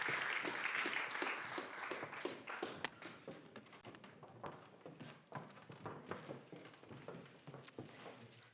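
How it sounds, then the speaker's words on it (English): Audience applause for guests on stage at a science fellowship awards ceremony, a dense burst of clapping that thins into scattered, uneven claps, heard fairly faintly. "A warm applause for my guests."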